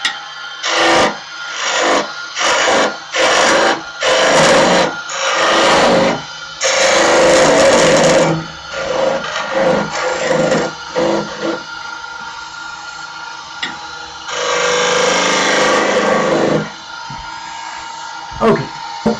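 A wooden mallet is cut on a woodturning lathe, giving rough scraping and rasping bursts of tool on spinning wood, loud and close, broken by pauses, with someone talking in places.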